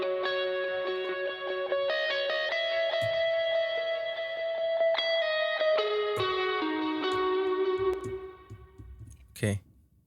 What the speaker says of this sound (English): And now we have the reverb.